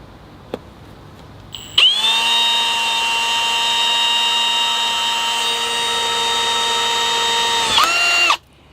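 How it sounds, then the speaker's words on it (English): A power drill whirs steadily for several seconds at high speed, loud and close, drilling a drainage hole in a bonsai pot, then winds down and stops. "Let's drill the other one too"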